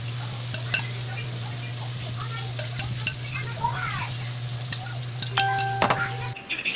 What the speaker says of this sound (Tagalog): nagpainit na ako ng mantika, nilagay ko na yung talong